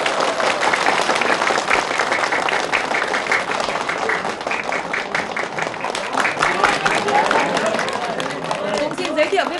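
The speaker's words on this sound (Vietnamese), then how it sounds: "Xin tất cả một tràng pháo tay để cổ vũ cho anh Trần Tiếu" A village audience claps to welcome a local painter in a game show setting, with brisk, uneven applause and crowd murmur mixed in throughout.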